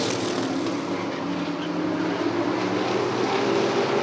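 Race cars circling Rockford Speedway, a broad continuous engine roar from the pack held at steady loudness, with no talk.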